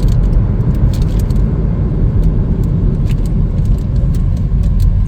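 A 2022 Chevrolet Trailblazer LT rolls along during a brake test, giving steady low road and engine rumble from inside the cabin with faint rattles and ticks, and no talking.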